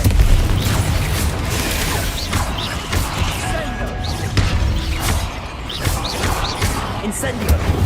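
Confringo spell explosions in Hogwarts Legacy, a series of loud booms and crashing bursts over ongoing game noise, with a voice shouting over them.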